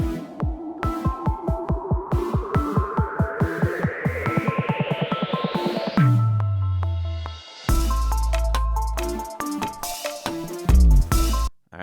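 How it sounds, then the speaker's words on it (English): Electronic beat instrumental with rigidly quantized, perfectly timed hits: a steady pulsing pattern rising in pitch for several seconds, then heavy bass and chopped melodic stabs, loud and upfront with no voices. "So this instrumental in the very beginning sounded like this."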